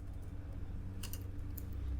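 Keys on a computer keyboard are tapped in a few quick, soft bursts during terminal work, close by over a low steady hum.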